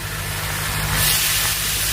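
A lid comes off a pan of manathakkali keerai (black nightshade greens) simmering on low heat, and a soft steady hiss of steam swells after about a second. No one speaks.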